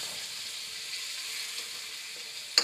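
Turmeric and red chili sizzle in hot oil for an egg curry, giving a steady, even frying hiss close by. A single sharp click sounds at the very end.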